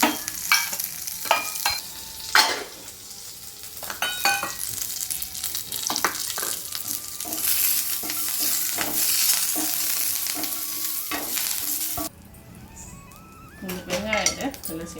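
Unpeeled garlic sizzles in a hot kadai, crackling steadily while a utensil stirs and clinks against the metal pan; a voice talks over the cooking throughout.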